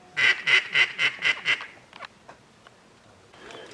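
About six rhythmic mallard duck quacks come in quick succession, loud and fairly close, then trail off into a few faint scattered calls and quiet outdoor background.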